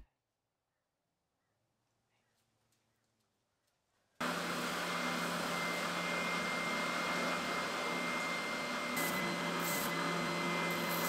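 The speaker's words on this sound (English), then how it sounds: "After tidying things up a little bit at the sander" Power sander working on a wooden table leg assembly, near silence that abruptly gives way to a loud, steady, broadband whirring drone.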